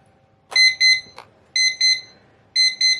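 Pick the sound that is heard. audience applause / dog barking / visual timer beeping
visual timer beeping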